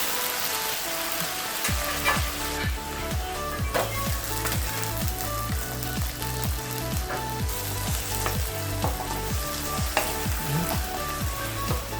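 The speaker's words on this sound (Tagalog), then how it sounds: "gisa po natin yung tuna" Canned tuna sautéed in a pan: a dense, continuous sizzle and crackle, with quick rhythmic scraping strokes of the spatula repeating throughout, close and steady, with no talking.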